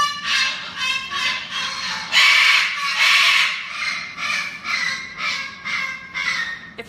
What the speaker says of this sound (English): Here we have 6 parrots.